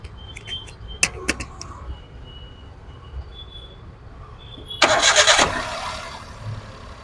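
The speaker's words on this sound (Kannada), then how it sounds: "ಇಂಜಿನ್ ಸ್ಟಾರ್ಟ್ ಆಗಿದೆ" A 2016 Hyundai Eon petrol car in very good condition cranks and catches; a burst of starter and engine noise follows some quiet clicks and faint tones, then settles into a smooth idle.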